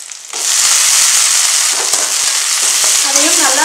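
Finely chopped tomato hits hot oil and sizzles loudly and steadily at close range, with a few faint stirring scrapes beneath the hiss and no speech.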